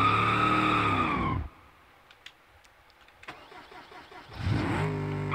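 Car engine in the BeamNG video game roaring at high revs, cutting out to near silence with faint clicks, then starting again and climbing back into a loud, rising rev.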